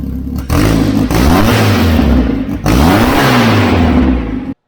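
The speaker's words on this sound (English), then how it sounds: "the engine runs consistently" A vehicle engine runs steadily and loudly, its low hum wavering slightly in pitch, with brief dips before cutting off at the end.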